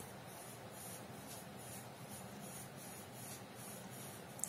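Pencil shading clouds on paper, a soft, steady rhythmic scratching close by, faint and continuous with no talking.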